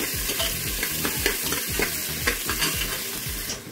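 Chopped onions sautéing in a pressure cooker: a dense, close sizzle with a quick, regular scrape of stirring repeating about three times a second, and no talking.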